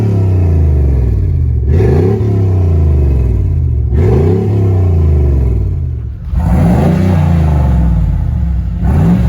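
1994 GMC Sierra K-1500 pickup with a newly installed sport exhaust, revved three times in loud throaty bursts that swell and fall back to a deep idle rumble between blips.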